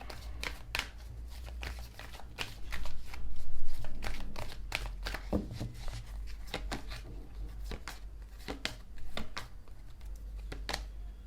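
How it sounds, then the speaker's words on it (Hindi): Tarot cards are shuffled by hand in a steady run of crisp riffling flicks and slaps, close and fairly loud, with no one speaking. "चलिए शफल करते हैं।"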